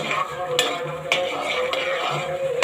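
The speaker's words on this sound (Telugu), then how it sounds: "కొద్దిగా ఫ్రై చేసుకుంటా నేను." Small spiced vegetable pieces frying in a pan, with a steady close sizzle and occasional sharp scrapes and clinks of a utensil stirring against the metal.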